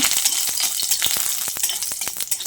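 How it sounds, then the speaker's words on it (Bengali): Lentil dumplings (bori) crackle and spit in hot mustard oil, a close, dense sizzle with sharp clicks and pops scattered across the stretch. "সেই বড়িটা এই গরম তেলে দিয়ে দিচ্ছি।"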